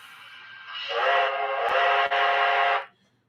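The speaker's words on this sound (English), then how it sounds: "Sometimes it does get confused between the bell and the whistle." Model train sound unit sounds a whistle, one sustained steady tone of about two seconds that swells in and cuts off cleanly, with a couple of faint clicks.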